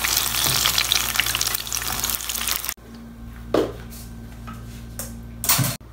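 Eggplant frying in hot oil for bagara baingan: a loud dense sizzle that cuts off abruptly, then quieter room tone broken by a few clinks and scrapes and a brief renewed burst of frying, no talk.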